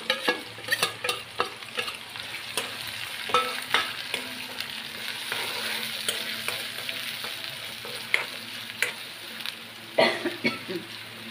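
Onion fries in a pan for a spiced curry, giving a low continuous sizzle with frequent sharp clinks and scrapes of a stirring spoon. A brief cough or throat-clear is heard, and there is no talking.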